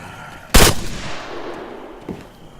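A single loud gunshot in a video game from a powerful gun, a sharp blast with a long fading tail, followed by a fainter impact about a second and a half later.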